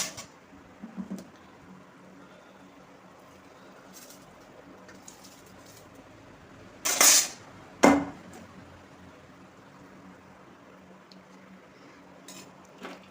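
Against a quiet background, washed rice pours into a clay pot in a short rattling rush, followed moments later by a brief clatter.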